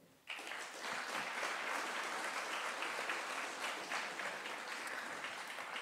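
An audience at an evening talk on AI and energy breaks into steady applause to welcome guest speaker David Gurlé, starting abruptly after a quiet moment and continuing evenly at a moderate distance.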